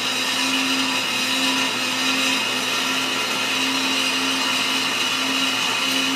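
A stick blender whirs on its middle setting through a chocolate malt, a steady, loud, unbroken drone with a faint high whine that holds for several seconds, with no talking.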